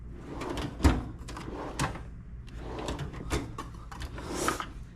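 Metal drawers of a mechanic's tool chest in a garage slide open and shut with several sharp thumps and rattles of tools inside, spaced irregularly and fairly close, with no voices.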